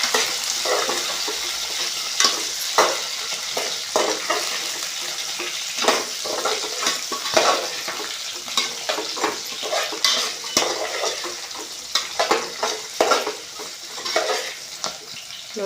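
Beans and mixed vegetables fry in hot oil in a pan for vegetable biryani, a steady close sizzle broken by frequent scraping and clinking of a stirring spoon against the metal pan.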